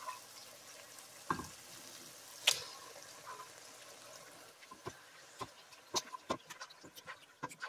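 Marinated pork and pork liver sizzle and fry in a pan, a steady close crackle with occasional clinks and stirring knocks.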